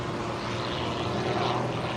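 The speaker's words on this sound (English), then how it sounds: "That engine really taking a pounding during this routine." An aerobatic airshow airplane engine roars continuously and loudly during a display routine, holding a steady broadband drone throughout.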